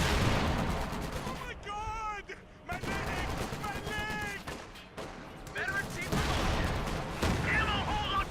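Sherman tanks firing in the strategy game Company of Heroes 2, bursts of gunfire and cannon blasts crackling under an excited commentator's continuous talk, with a high whining tone sweeping through the middle.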